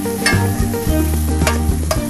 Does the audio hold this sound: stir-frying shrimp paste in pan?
yes